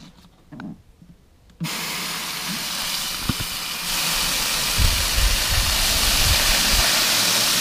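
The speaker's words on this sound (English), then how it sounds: "now I can fill it with water to verify that I don't have any leaks" Water gushing into an Igloo ice cooler mounted on a motorcycle trailer, a sudden steady roaring hiss that starts abruptly and grows fuller and louder as filling continues.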